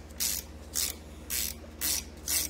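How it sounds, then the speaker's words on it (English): A ratchet wrench bought at Harbor Freight loosens a nut on a 1920 Singer 127 sewing machine during restoration: five quick bursts of rapid clicking, close and clear, separated by short pauses over a low steady hum. "I got myself a ratchet wrench at Harbor Freight, so I'm just going to use that."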